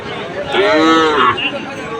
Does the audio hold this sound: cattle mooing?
yes